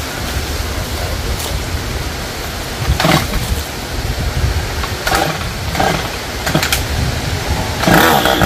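Chainsaw cutting through a tree outdoors, its engine droning steadily throughout with several louder bursts as the blade bites into the wood.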